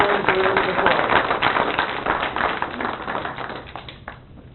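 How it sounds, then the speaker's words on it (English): Applause for city employees from the audience at a city council meeting, steady dense clapping from a crowd that slowly thins out toward the end, with some voices underneath. "let's give our city employees a round of applause"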